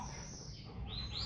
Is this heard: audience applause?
no